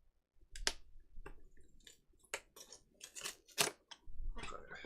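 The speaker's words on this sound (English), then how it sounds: "we're now gonna open the taco shells" A package of crunchy taco shells being opened, heard as a series of sharp crinkling plastic rips and crackles in irregular bursts, close and fairly quiet, with no talking.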